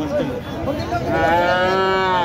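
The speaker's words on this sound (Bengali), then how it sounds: "অস্ট্রেলিয়ান বাছুর" An Australian-breed calf moos loudly and close by, a drawn-out, wavering bellow that rises in pitch toward the end.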